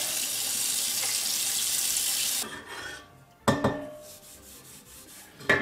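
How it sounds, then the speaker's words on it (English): Warm tap water runs steadily from a faucet into a sink while grease is scrubbed off stainless steel with Bar Keepers Friend, then cuts off, leaving a few close clinks and rubbing sounds. "We're going to try warm water"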